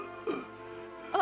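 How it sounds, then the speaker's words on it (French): Two short, throaty coughs from a character in an animated film, about a second apart, fairly soft and without other sound between them. "Oh, vous avez une vilaine toux."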